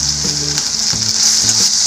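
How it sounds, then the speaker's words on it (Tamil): Curry leaves dropped into onions frying in a pan, a loud, close, continuous sizzle with brief stirring scrapes, no voices. "இப்போ நம்ம கருவேப்பிலை சேர்த்துப்போம்."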